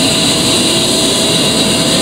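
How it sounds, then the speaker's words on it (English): An A-10C Warthog jet engine spooling up during start-up in the DCS flight simulator, a loud, steady turbine whine with a high tonal hum over a broad rushing roar, sustained without a break. "As the engine spools up"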